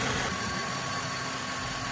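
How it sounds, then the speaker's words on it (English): Ford Crown Victoria 4.6L V8 idling steadily, a low, even engine hum with a faint hiss and slight vibration, close and unbroken with no talking. "So we're gonna let this car idle a little while and come back"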